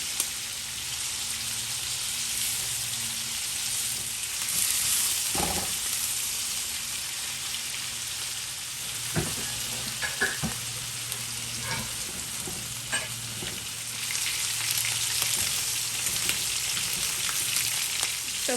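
Shrimp frying in a pan, giving a continuous close hiss of hot oil that swells and eases. Occasional utensil clicks and scrapes appear as the pieces are turned, with no speech.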